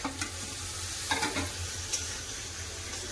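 Pre-fried eggs dropped into a simmering spiced curry in a pan and stirred, giving a soft steady sizzle with a few light clinks and scrapes of the spoon, close and quiet, with no talking.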